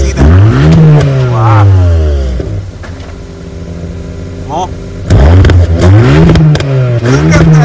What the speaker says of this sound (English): now it's on N mode. You can rev it.